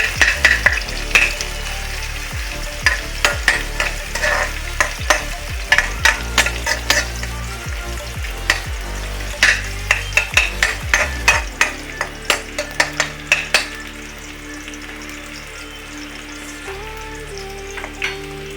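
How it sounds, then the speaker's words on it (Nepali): Onions sizzle in hot oil for a light brown fry, a steady crackling hiss broken by frequent sharp scrapes of a spoon stirring the pan, close and loud; the stirring thins out toward the end while the sizzle carries on. "अहिले तेलमा प्याज राखेर थोरै ब्राउन फ्राई हुनको लागि चाहिँ यहाँ चलाउँदैछौँ।"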